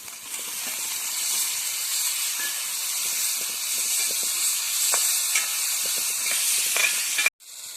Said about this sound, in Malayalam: നമുക്ക് ഇനി തക്കാളി ഇട്ട് കൊടുക്കണേ.